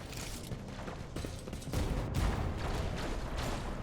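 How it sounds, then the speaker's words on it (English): Explosions and gunfire from the Warhammer 40K Rogue Trader video game form a fairly faint, continuous rumbling barrage, with a few sharper bursts standing out partway through. "Well, that's a lot of explosions."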